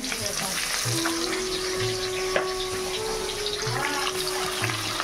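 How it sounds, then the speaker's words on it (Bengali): Pabda fish sizzles steadily in hot oil in a wok, a continuous crackling fry with a faint tonal hum in the background. "পাবদা মাছগুলো কড়াই একটা করে দিয়ে দেবো এবার"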